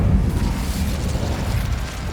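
Incendio fire spell cast in Hogwarts Legacy: a brief, loud, low whooshing burst of flame with a rumbling roar that holds steady for about two seconds, with no talk.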